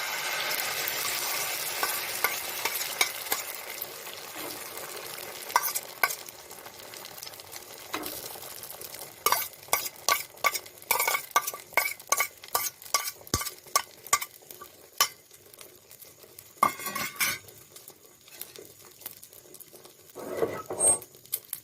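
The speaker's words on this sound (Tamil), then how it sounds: "மீடியமாக வச்சுட்டு ஆம்லெட் போட்டுவிடுங்க." An egg omelette fries in a pan over medium heat. A soft sizzle fades under a long run of sharp, rhythmic tapping and scraping from a utensil, then a brief sizzle swells again near the end.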